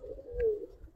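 A male pigeon of an old-generation gribaz breed gives a single soft, low coo, close and fairly quiet, with no voices.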